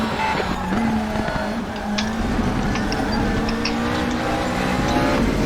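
McLaren 650S GT3 race car in RaceRoom at Suzuka, its engine droning steadily while the tyres squeal and skid as the rear slides, sustained and close for several seconds.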